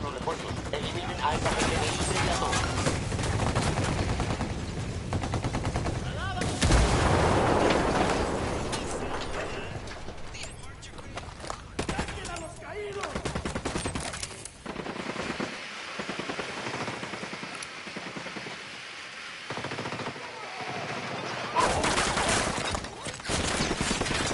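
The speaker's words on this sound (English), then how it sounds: "Shots fired." Gunfire in Ghost Recon Wildlands on PS5 as the Unidad engages the cartel: loud, sustained bursts of automatic fire and scattered shots with mechanical clatter, running nearly nonstop and easing off only briefly before resuming.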